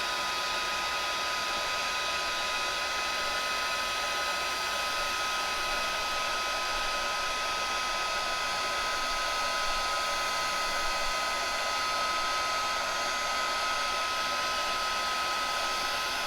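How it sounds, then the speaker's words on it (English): A craft heat tool running on its highest setting to melt embossing powder on a Christmas card gives a steady, loud blowing whoosh, like a hair dryer, that holds evenly for the whole stretch with no talking. "I am reaching around and grabbing my heat tool. Put it on the highest setting, and then I'll just go ahead and emboss this."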